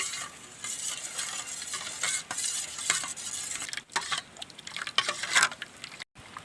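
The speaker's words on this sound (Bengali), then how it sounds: "এবার এই বড় চামচটা দিয়ে ভালো করে নাড়তে থাকবো।" A large spoon stirs sugar into a lychee drink, with quick scraping and clinking strokes against the vessel in irregular bursts, close and fairly clear, briefly pausing, with no voices.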